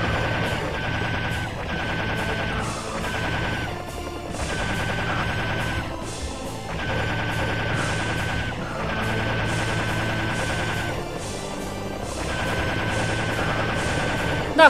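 Rapid bursts of automatic gunfire in the video game Serious Sam: The First Encounter repeat in steady rhythmic volleys with short pauses between them, loud and close throughout.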